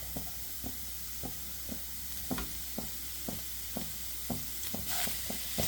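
Carrot and paneer fry in a pan with a soft, continuous sizzle while a spatula taps and scrapes at a steady, regular rhythm, close and fairly quiet.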